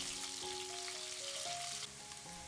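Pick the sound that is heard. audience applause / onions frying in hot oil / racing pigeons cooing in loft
onions frying in hot oil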